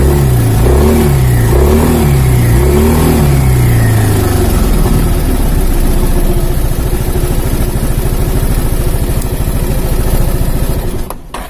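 Italian 250cc automatic scooter engine, loud and close, revving up in several rising surges then holding a high steady drone with no talk.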